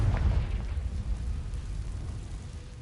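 Confringo fire spell explosion in Hogwarts Legacy, a deep booming burst at the start that decays into a rumbling, crackling tail over a few seconds.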